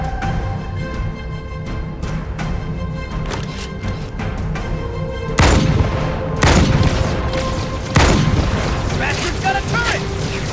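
Turret fire in Halo 2 Anniversary, with heavy booming bursts and mechanical clatter over a steady din of battle, loud and close, with two especially strong blasts standing out partway through.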